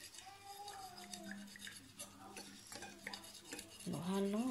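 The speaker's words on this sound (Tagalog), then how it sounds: "Haluin lang natin." Fried chicken pieces are stirred in a bowl, with soft scraping and light clinking of a utensil, faint and close, ending in a louder clatter.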